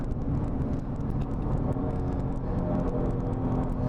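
A Kia Stinger runs a time attack lap at Inje Speedium race track, with a continuous rumbling drone of engine and road noise heard from inside the car and no distinct gear shift standing out.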